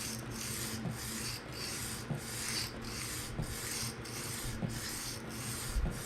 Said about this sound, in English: it will be harder to slide across the stone